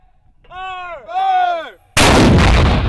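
Mortar rounds fired during a US Army infantry live-fire exercise: a shouted command, then a single loud, close blast with a long rumbling tail.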